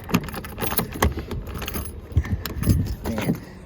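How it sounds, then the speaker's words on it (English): Keys jangling close by, with repeated metallic clinks and rattles as someone digs them out of a waterproof storage box on a 2024 Nissan Titan Pro 4X XD pickup. "Let me see if I can get my keys and do this with one hand."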